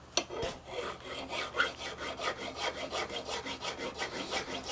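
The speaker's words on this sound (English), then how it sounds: "I'll change over to this mill file." A mill file rasps across electric guitar frets just above the fretboard in quick, even back-and-forth strokes, close and fairly quiet, with one sharp knock near the start.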